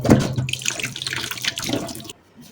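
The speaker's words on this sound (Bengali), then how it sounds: "আম দুটোকে ভালো করে ধুয়ে নিব।" Tap water runs over two ripe mangoes being washed in a sink, a steady close splashing with shifting gurgles as the fruit is turned, before the flow cuts off near the end.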